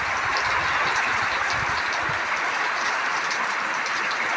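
Light shower rain falling steadily around a simple home, a continuous soft hiss of drops with faint irregular patters, even and moderately close, no talking.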